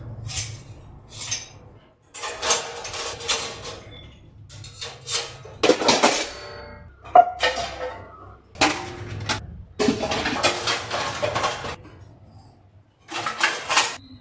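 Pots, pans and dishes handled in a home kitchen, with irregular bursts of clanks, clinks and scraping metal separated by short pauses, close by and fairly loud.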